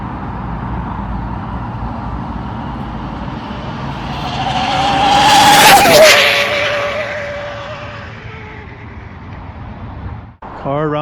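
An Arrma Speedrun RC car whines past at high speed, its motor pitch rising to a loud peak as it nears and then falling away as it recedes, over steady outdoor background noise.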